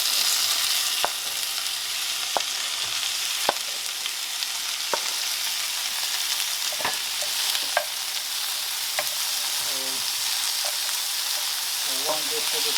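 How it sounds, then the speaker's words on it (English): Tomatoes fry in a pan for egg biryani, giving a steady bright sizzle with occasional sharp ticks and small stirring scrapes, close and continuous, with no talking. "And then I'm gonna add tomatoes in it."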